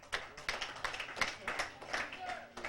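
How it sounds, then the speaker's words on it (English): A brief scattering of audience clapping at a comedy show, thin and uneven, with a few distinct claps rather than full applause. "Applaud if you're a cigarette smoker."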